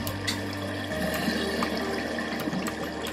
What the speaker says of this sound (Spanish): ¿A dónde escucho el agua?